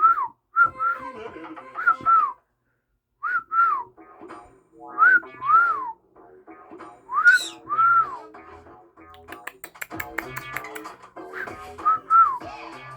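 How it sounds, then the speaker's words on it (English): A person whistles a melody alone, close and clear, in short repeated phrases with gliding notes and brief pauses. "I can whistle again"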